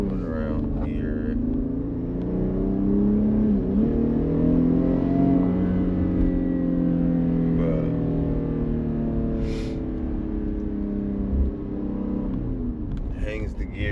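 A 2018 Jeep Grand Cherokee engine shifting in sport mode at high altitude: a steady mid-pitched rumble from inside the cabin, with engine pitch rising and dropping as gears change and faint voice moments over it.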